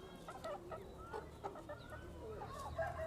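Chickens clucking and squawking as they are fed grain, several birds calling in short bursts at close range over a steady low background.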